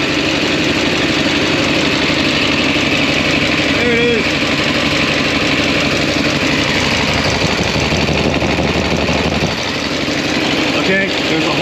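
A loud idling 6.6 Duramax diesel engine in a 2008 Sierra rumbles steadily up close with a faint ticking clatter from a cracked exhaust manifold leak, and someone speaks briefly over it.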